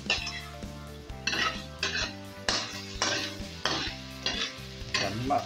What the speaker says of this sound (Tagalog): Igisa muna natin sila mabuti.